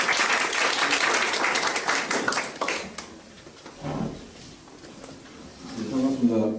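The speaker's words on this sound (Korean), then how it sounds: "큰 박수 한번 부탁드립니다." Audience applause at a startup networking forum as a guest speaker is welcomed, dense clapping for about three seconds that fades out, followed by scattered taps and a voice starting to talk.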